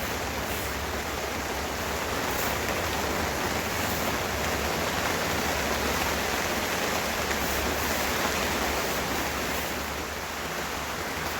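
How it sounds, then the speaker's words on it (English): Steady outdoor rain in Oregon hisses evenly and fairly loud across the whole stretch, a dense broadband wash with no pauses and no voices. "Apologize for the rain, folks."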